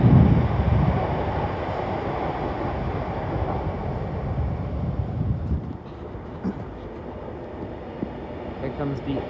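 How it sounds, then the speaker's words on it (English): An Avanti West Coast passenger train rushes past at Primrose Hill, London, its loud rumble and wheel roar strongest at first and then easing into a lower rush with some wind noise. "Here comes the 1820 Avanti West Coast service to Manchester Piccadilly"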